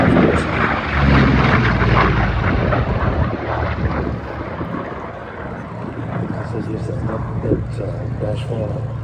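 A pair of WWII Corsair fighters, including a Goodyear-built FG-1D, fly at an airshow at RAF Church Fenton, giving a continuous loud piston-engine roar with wind buffeting under steady nearby talk.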